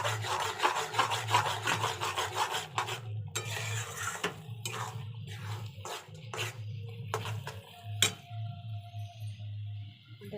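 Salt, cumin powder and coriander powder being stirred in a pan, heard as repeated scraping and rubbing of a utensil against the pan with light clinks, close and steady, with no talking.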